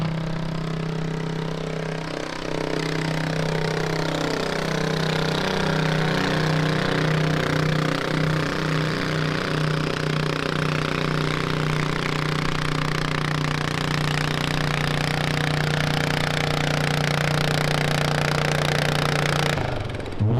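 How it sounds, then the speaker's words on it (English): A stock 16 horsepower garden tractor engine on gasoline at a garden tractor pull roars loud and steady at high revs with a pulsing mechanical beat, holding nearly constant before cutting off abruptly at the end. "These are all 16 horsepower engines."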